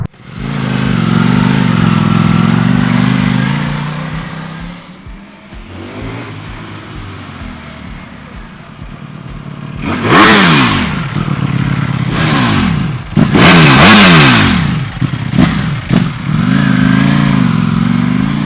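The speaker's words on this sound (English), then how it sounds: "This is a cold start." A Ducati Panigale V4S motorcycle engine idles on a cold start, then revs sharply several times in loud rising bursts, close by, with rough mechanical clatter between the revs, at night in London.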